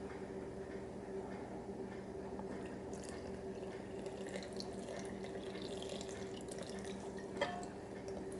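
Water poured steadily for Taiwanese bakery bread dough, a continuous faint trickling stream with a small splash near the end, no voices.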